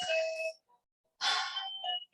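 A household doorbell rings indoors, two distinct chime bursts separated by a brief silence, each a bright tonal ding-dong, fairly close and alone without talk.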